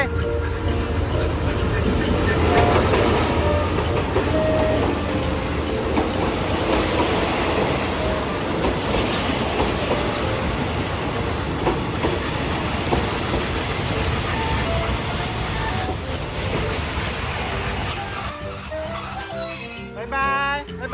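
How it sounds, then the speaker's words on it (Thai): A train rolls in with a steady rumbling roar and clattering wheels, a high metallic squeal rising near the end as it slows. "รถไฟมาแล้ว ไปขึ้นรถไฟขึ้นรถไฟ"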